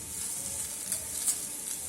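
Fish and potatoes fry in a pan with very little oil, giving a steady, soft hiss of sizzling with faint crackles throughout and no talking.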